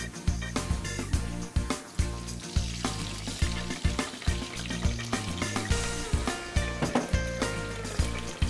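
Spinach sizzles and crackles in hot oil in a pot, with repeated clanks and scrapes of stirring against the pot in a steady rhythm.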